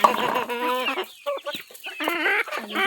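Desi (native-breed) chickens cluck and squawk nearby in short, overlapping bursts, a busy farmyard chatter with brief pauses between calls.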